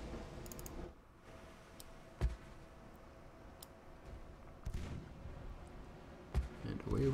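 Destroyer guns of 3-inch and 4-inch calibre open fire in a naval video game, three sharp booming shots spaced a couple of seconds apart over a low, quiet background.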